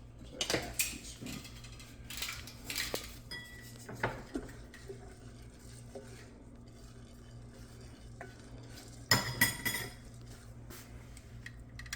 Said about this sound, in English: you want to stir it a little bit. I have a wooden spoon.